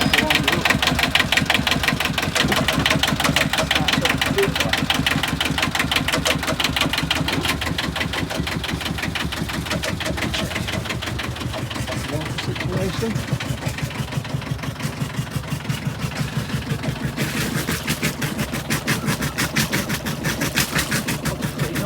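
A diesel engine with glow plugs, checked after diesel bug contamination, cranks and settles into a loud, rapid rhythmic idle with steady knocking pulses close by.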